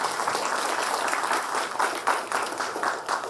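Audience applauding at the inauguration of a dental academy, steady dense clapping from a crowd close by, continuing throughout.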